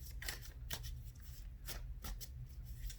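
A tarot card is drawn from the deck, giving a few soft, quick papery swishes and flicks, quiet and close, with no talking.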